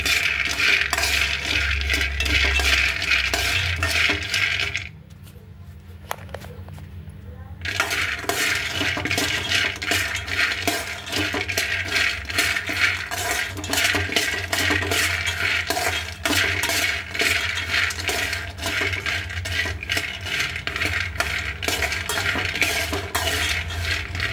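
Dry peanuts rattle and scrape against a metal pan as they are roasted and stirred continuously, with a brief quieter pause partway through.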